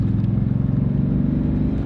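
Old Chevy Silverado truck engine on a country road, a loud close low rumble that holds steady with a pulsing throb as it pulls along.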